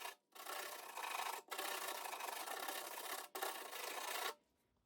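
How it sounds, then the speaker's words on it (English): Coarse 40-grit sandpaper is rubbed by hand over rusty, bubbled paint in three long, even, close scraping strokes with brief pauses between, and no talk. "40 grit sandpaper, it'll start to remove all the paint and the rust that bubbled to the surface"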